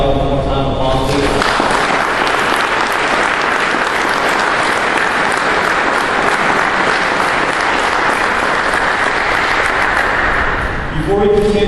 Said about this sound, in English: give Paty Garcia's family one more time applause, please